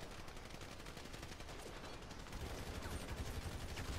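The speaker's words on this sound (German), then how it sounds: "Eben Schüsse" Rapid gunfire in GTA 5 Online, a dense, continuous burst of shots like automatic weapons, quiet in the mix and growing slightly heavier in the second half, with no talking.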